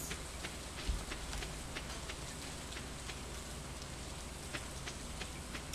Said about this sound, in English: Probably it's raining.